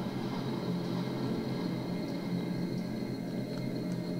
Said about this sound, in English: I just had to sit there and wait for a train.